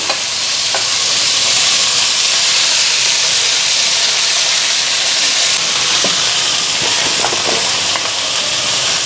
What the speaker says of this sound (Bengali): শাকটা দিয়া দিলাম